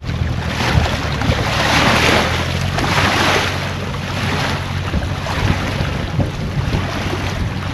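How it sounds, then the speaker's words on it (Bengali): A village boat, the only transport for local people, moves across open water with steady engine rumble, waves slapping and strong wind buffeting close by, with no speech. "এই গ্রামের মানুষের যাতায়াতের একমাত্র বাহন হচ্ছে এই নৌকা।"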